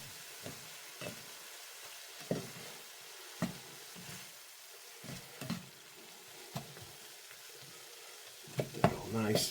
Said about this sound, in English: And just mix that in with the ground beef